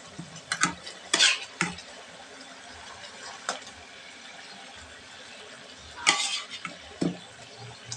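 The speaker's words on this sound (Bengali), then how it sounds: "ঝোল ফুটে গেছে, মাছগুলো দিয়ে দিচ্ছি।" Pieces of fish dropped into a boiling curry, heard as a few clattering splashes and scrapes of a utensil against the pot over a soft background, with no talking.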